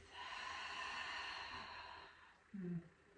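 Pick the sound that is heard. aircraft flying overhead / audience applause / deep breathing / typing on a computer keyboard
deep breathing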